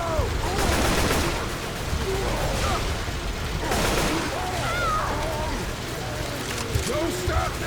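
Gunfire from the Left 4 Dead 2 video game, in the Hard Rain finale, comes as loud, dense rapid bursts over a constant game din, with short pauses between volleys and voices talking over it.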